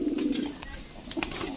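Racing and high-flyer pigeons at a loft coo in low repeated rolling bursts, close by, with light rustles and clicks between calls and no speech.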